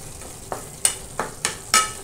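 Spice masala sizzling as it roasts in oil in a pan, heard as a quiet stove-side hiss broken by five or six short, sharp stirring scrapes and crackles at uneven intervals.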